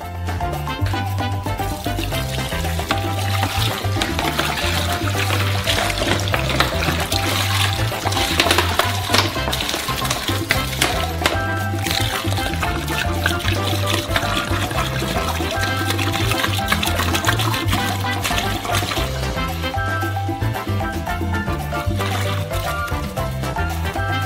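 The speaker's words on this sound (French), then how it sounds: "Pour faciliter le mélange, on verse d'abord la moitié de l'eau." Roughly 35 litres of water pour steadily into a large bowl for a giant Snickers ice cream, a loud continuous gushing rush lasting throughout, with a low droning hum underneath.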